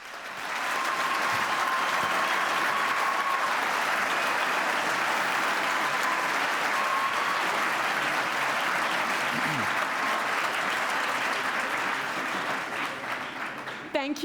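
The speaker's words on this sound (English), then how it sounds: "Thank you very much for the warm welcome and applause." Sustained audience applause at the opening ceremony of the St. Gallen Symposium, a large hall of clapping hands holding steady and loud for many seconds before tapering slightly at the end.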